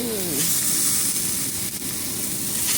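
Loud, steady sizzling of chicken wings frying in hot oil in a pan, a constant crackling hiss close up.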